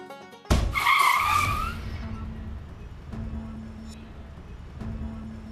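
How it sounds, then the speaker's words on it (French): A car's tires squeal in a sharp, loud skid followed by an impact as it crashes into another car, then a low lingering rumble and a faint repeated tone. "Il a percuté la voiture."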